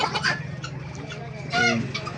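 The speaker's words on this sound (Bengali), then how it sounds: "এই ফাইটার মুরগির সাথে পাহাড়ি মরকটা দিচ্ছি" Indian fighter chicken clucking nearby, a few short throaty clucks and calls in quick irregular bursts over faint background noise.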